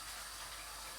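Tap water runs in a steady, continuous gush, filling the whole moment with even, close hissing noise and no voices.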